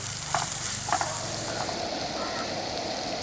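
Sliced onions and green chillies sizzle hard in a hot pan with salt added, steady frying hiss broken by a few sharp clacks of a spoon stirring against the metal.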